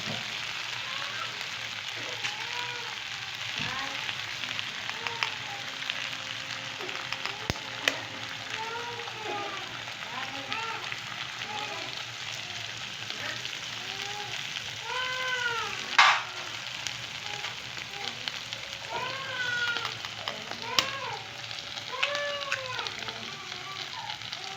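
Eggs fry in oil in a pan with potatoes for an aloo anda dish, a steady close sizzle and crackle running throughout with occasional utensil scrapes and clinks, no talking.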